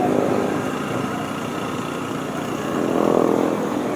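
A motorcycle engine runs steadily at close range, a continuous rough rumble that swells slightly toward the end, with no talking.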